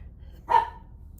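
A single sharp dog bark rings out, fairly close and alone, with a quiet room hum before and after.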